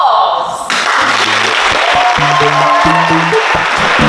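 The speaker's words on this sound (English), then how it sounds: "Applause!" Brief crowd applause at a magic show, rising after a short opening and continuing steadily while a tonal musical sting with stepped notes plays over it.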